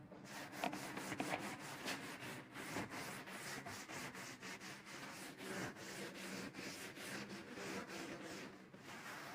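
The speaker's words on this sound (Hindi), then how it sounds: "मैं रब कर रहा हूँ" A whiteboard or blackboard being rubbed clean during a physics lecture, steady broadband scrubbing strokes repeating in a quick rhythm, close and continuous throughout with no talk.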